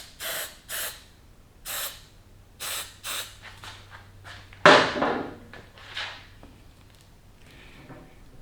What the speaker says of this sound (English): For regular grips, I like to just use some hairspray.